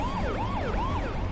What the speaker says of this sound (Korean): 사이렌도 울리고 크락션도 울리고 경적도 울리고